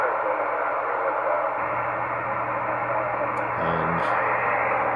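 A Yaesu FT 757 GX II amateur radio transceiver plays receiver audio, a steady hiss of static with faint murmuring signal and a couple of brief chirps, filling the background at moderate volume.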